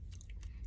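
Crunchy deli chicken wings being chewed up close, a quick series of crisp, crackling bites heard alone.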